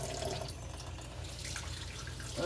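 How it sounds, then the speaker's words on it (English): A kitchen tap runs steadily into a sink during dishwashing, a continuous close splashing wash of water with no talk over it. "Got the nice soothing water going."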